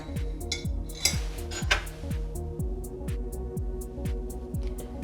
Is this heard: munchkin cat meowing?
no